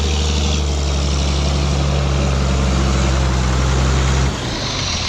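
A heavy diesel tractor engine chugs steadily at a low idle, loud and close, its deep drone shifting slightly near the end.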